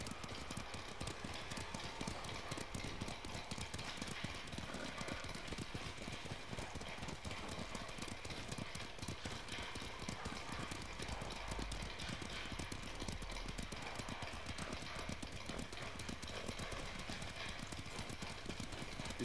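Horse hooves clip-clop in Ghost of Tsushima, in snowy country, as a steady, quick and fairly quiet patter that runs without a break for the whole stretch, with no voices over it.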